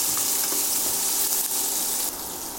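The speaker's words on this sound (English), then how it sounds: "Add the aromatics like the onions, ginger and chilies. Add some salt and stir fry." Onions, ginger and chilies with salt stir-frying in a pan for an Indian cabbage curry, giving a steady, close hiss of sizzling oil that softens slightly near the end.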